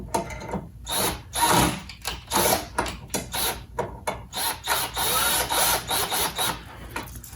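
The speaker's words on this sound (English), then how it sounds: "Just want to be careful not to screw it too far in." Screws being driven into the top crossbar of a Tempo AVSFSS chair during an insert replacement, a run of repeated rasping, grinding bursts with short pauses between them, close and fairly loud with no talk.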